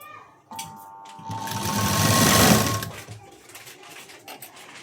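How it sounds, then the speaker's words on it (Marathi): A sewing machine stitches down a folded tuck in a burst of whirring that builds to a loud peak near the middle and then fades. A few soft handling sounds come before and after it. "हा टक्स जो आहे तो असा दुमडून यावरती एक मी शिलाई घेते पहा"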